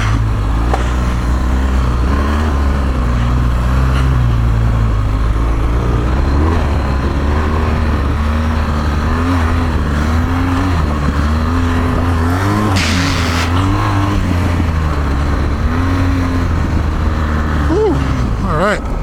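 A 2016 BMW R1200GS motorcycle is ridden in first gear after new fork stanchions were fitted, its engine droning loudly and continuously with pitch rising and falling as the throttle changes.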